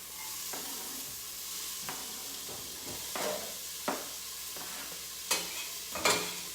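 Diced onion fries gently in a pot for chicken tortilla soup, a soft steady sizzle broken by intermittent stirring scrapes and knocks.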